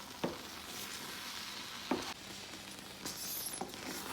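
Ripe plantain jam being stirred in a pot, giving a soft steady sizzle and bubbling with a few louder scrapes of the spoon, close up, no voices.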